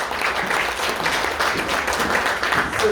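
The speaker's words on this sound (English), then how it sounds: "A big round of applause to all of you for amazing work you all did." Guests at a community leaders' luncheon in a multicultural hub applaud in a brief, loud, steady burst of dense clapping.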